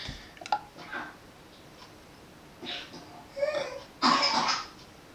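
A few short coughs from a nearby child, scattered bursts with quiet gaps between, the last one loudest.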